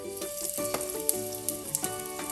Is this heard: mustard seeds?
yes